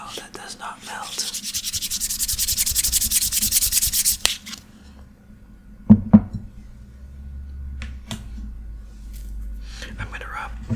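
A vanilla syrup bottle rubbed with chocolate in a close, whispery setting: a steady, dense rubbing texture for about four seconds, then quiet pauses with a couple of sharp taps and light handling sounds.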